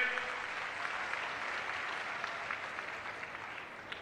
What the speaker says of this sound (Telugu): బాగు చేశామంటే గట్టిగా చప్పట్లు కూడా చెప్పండి, బాగుపడ్డాయని